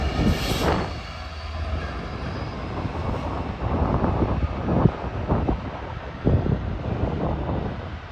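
Two Freightliner Class 66 diesel locomotives pass through York station as light engines, their low rumble building and swelling with some wind noise at the microphone.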